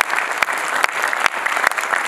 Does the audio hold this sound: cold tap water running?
no